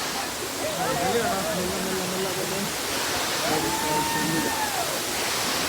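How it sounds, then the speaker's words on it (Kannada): Steady broadband roar of a waterfall at a falls visited by a group, constant and full, with faint voices underneath. "ನೋಡಿ ಫಾಲ್ಸ್."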